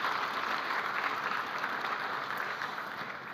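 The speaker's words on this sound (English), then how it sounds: "Could I please ask for a round of applause for our panelists?" A forum audience applauds panelists at the close of a session, a continuous wash of many hands clapping at moderate volume that slowly softens, with no voices.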